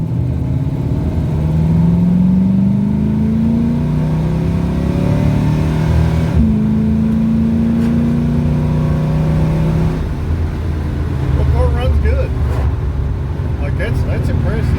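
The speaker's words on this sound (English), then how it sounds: "That way I can run the RPMs up a little higher." A 1971 Ford Torino with a mild 302 V8 pulls hard while being shifted manually, engine note climbing through the gears in rising revving sweeps, close and loud, with someone talking over it.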